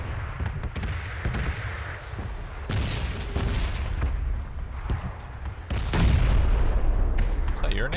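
A grenade explodes in the battle-royale shooter PUBG: several sharp booms and gunfire bursts rise above rumbling background noise, and one heavy blast lands near the end while players talk throughout.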